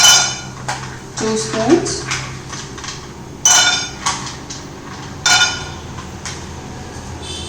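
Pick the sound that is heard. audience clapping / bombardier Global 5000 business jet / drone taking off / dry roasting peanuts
dry roasting peanuts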